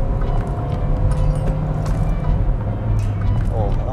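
A 2020 Hyundai Reina sedan accelerating in second gear to overtake, a steady low engine and road hum from inside the cabin, heard under continuous talking.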